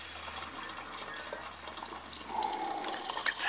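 Homebrewed Mr. Beer American Light Lager poured into a keg, a steady close splashing gush of liquid that swells louder and fuller near the end, with no talking.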